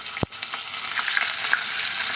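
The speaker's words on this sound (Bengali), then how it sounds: "তেল গরম হয়ে গেছে এখন মুড়োগুলো দিয়ে দিচ্ছি" Fish heads dropped into hot mustard oil in a wok, giving a sharp initial crackle and then a steady, fairly quiet sizzle with a few pops.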